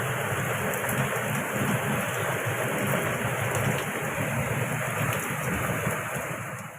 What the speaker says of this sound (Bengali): দেখো বাইরে কি বৃষ্টি যে হচ্ছে না, প্রচণ্ড বৃষ্টি হচ্ছে